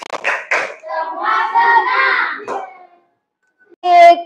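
A class claps hands together in the 'tepuk senang' clap chant, with sharp claps mixed into loud group chanting. A short silence follows, then a single voice speaks.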